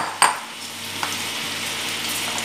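Bitter gourd pieces frying in hot oil until reddish and crisp, a steady close sizzle with a sharp clatter near the start and a faint knock partway through, no voices.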